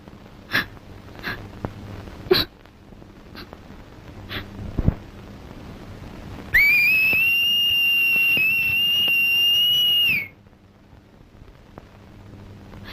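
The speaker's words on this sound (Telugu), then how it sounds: "ఈల వేయటం నాకు మాత్రం ఇష్టమన్నా?" A steady, high whistled tone held for about four seconds, slightly wavering, standing out clearly over a quiet background with a few soft knocks.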